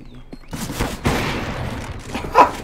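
Gunfire in the online shooter CS:GO, a handful of loud sharp shots with short decays spread across a couple of seconds over faint game ambience.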